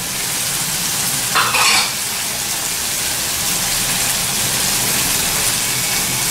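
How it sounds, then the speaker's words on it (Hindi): Masala of salt and red chili powder frying and being stirred in hot oil, a steady loud sizzle throughout with a brief burst of scraping near the start. "अच्छे से इस मसाला को भून लेंगे।"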